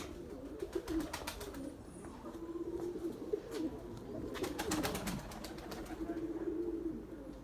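Tumbler pigeons coo softly in low repeated bursts outdoors, with occasional wing flaps and faint scuffing noise in the background.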